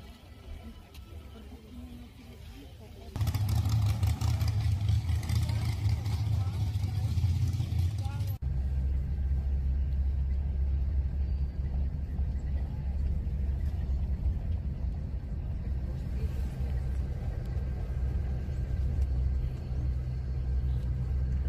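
Steady low road rumble inside a moving car, a continuous drone that grows louder and denser after a few seconds and then holds even throughout, with no one talking.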